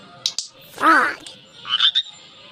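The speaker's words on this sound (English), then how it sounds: "Frog." A frog croaks a few times, a loud rasping call near the start followed by softer, higher chirping notes, close and with no talking.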